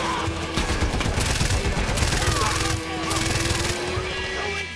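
A .50 cal mounted machine gun fires in Far Cry 4, sustained rapid bursts of loud, dense gunfire with short breaks, booming and continuous across the scene.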